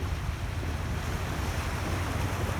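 Ocean waves and surf roll in a steady, continuous wash with a deep low rumble and windy hiss, no distinct breaks between swells.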